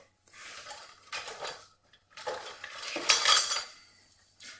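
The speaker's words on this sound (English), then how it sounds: "I need to clean this off with a spatula." A metal spatula scraping cheese wax off a metal surface in several short, rasping strokes separated by brief pauses, close and alone.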